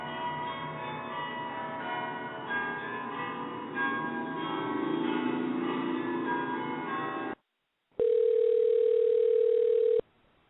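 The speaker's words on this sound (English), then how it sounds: "And that's his phone ringing for all those that are wondering." A chiming, bell-like telephone ringtone plays for several seconds. After a brief silence comes a steady, unbroken electronic tone lasting about two seconds.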